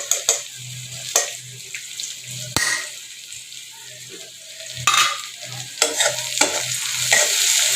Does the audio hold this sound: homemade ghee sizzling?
yes